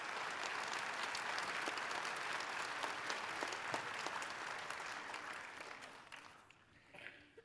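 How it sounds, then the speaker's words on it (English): An audience at a Veterans Day ceremony claps steadily for a group of music educators, with dense, sustained applause that holds for several seconds and then thins out and fades near the end. "So a round of applause for our educators."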